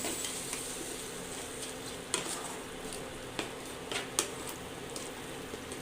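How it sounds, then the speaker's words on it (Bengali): Spices, potato, pointed gourd and egg sautéing in a pan give a steady close sizzle and fry hiss, with a few sharp scrapes and clinks of a spatula stirring against the pan; no talk. "এইভাবে সুন্দরভাবে আস্তে ধীরে আপনারা কষাতে থাকবেন।"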